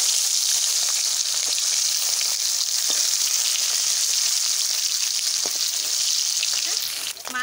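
Fish sizzles steadily in hot oil in a pan, a loud, continuous close-up crackle and hiss that lasts throughout and ends with a brief clatter.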